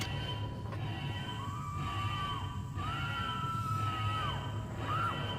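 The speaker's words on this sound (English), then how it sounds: "Well, she's still screaming, so she's not dead yet." A woman screaming in System Shock 2, with long drawn-out wailing cries over a steady low mechanical hum, repeated several times at moderate volume.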